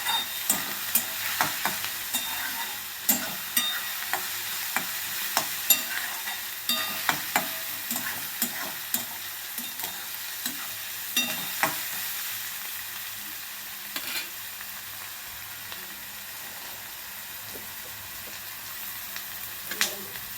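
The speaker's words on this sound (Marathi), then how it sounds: "म्हणजे कांदा पटकन भाजतो." Chopped onion with a pinch of salt fries and sizzles steadily in a pan for a simple village-style vegetable dish, with repeated close scraping stirs of a spoon against the metal at an uneven pace, no voices.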